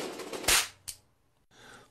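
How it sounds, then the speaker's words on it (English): A toy cap gun fires two sharp, fairly quiet cracks a fraction of a second apart, each a short snap followed by near silence and faint noise. "The cap gun was born."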